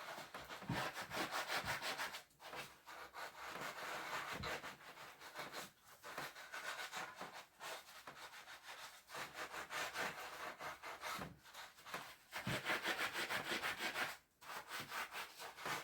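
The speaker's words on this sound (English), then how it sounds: "You can feel where the old varnish is catching on my sponge there as well" A sponge scrubs dust and old varnish off a wooden Ashford spinning wheel in close, rhythmic back-and-forth rasping strokes with brief pauses between passes, no voices.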